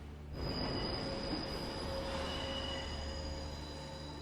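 A train in the Death Note anime runs along the rails, its wheels squealing in a steady high metallic whine over a low rumble. The sound swells in just after the start and holds on.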